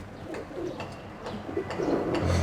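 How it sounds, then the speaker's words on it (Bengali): Imported Teddy pigeon from Dubai at a Chittagong pigeon farm, giving a few soft, low coos in a short sequence against light farm background noise. "এটা হচ্ছে টেডি কবুতর টেডি টেডি কবুতর আচ্ছা টেডি এটা দুবাইয়ের একটা কবুতর"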